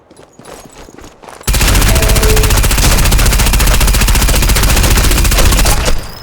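A long, loud, uninterrupted burst of automatic gunfire in a video game fires for several seconds at close range before cutting off, preceded by a quieter stretch with faint voices.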